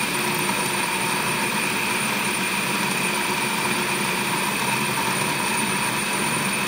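A stand mixer works pastry dough for a Cape gooseberry tart as water is drizzled in, giving a steady, dense mechanical whir and rumble that runs unbroken and fairly loud throughout, with no talking.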